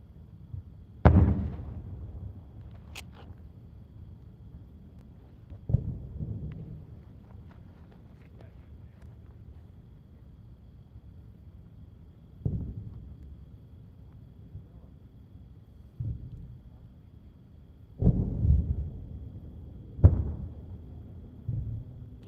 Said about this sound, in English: The artillery is terrifying. I'm glad that's all outgoing.